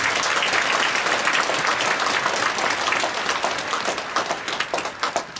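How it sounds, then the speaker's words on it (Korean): A church congregation at a special dawn prayer service claps for the children who came. The dense, lively applause holds steady, then thins into scattered individual claps toward the end. "이렇게 많이 나와서 박수로 한번."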